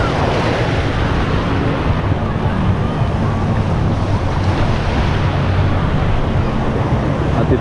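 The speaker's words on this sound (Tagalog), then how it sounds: "tumataas na po ang tubig" Surf washes continuously at a crowded black sand beach in Hinigaran, Negros Occidental, a loud, steady roar of waves and rising water buffeted by heavy wind noise on the microphone.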